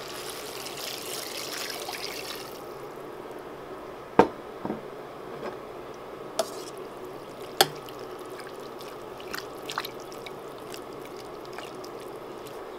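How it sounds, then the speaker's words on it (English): Broth poured into a soup pot of cooked-down barley rice and chicken with vegetables, a steady soft trickling stream with a few sharp clinks along the way, close and without talk. "we're going to go ahead and add our broth"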